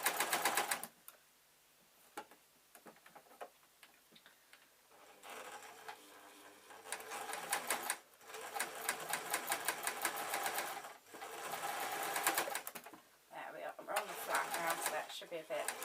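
Sewing machine stitches through many thick seams of a zebra fleece bootie in several sustained runs, its rapid mechanical chatter starting and stopping, with a voice talking at points in between.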